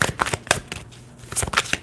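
Tarot cards are shuffled by hand in quick papery riffles and taps, in two bursts with a brief pause between, close and dry.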